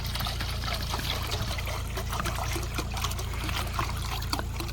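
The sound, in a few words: pouring water into a bowl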